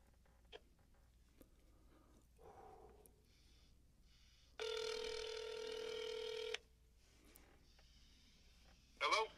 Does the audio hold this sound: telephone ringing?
yes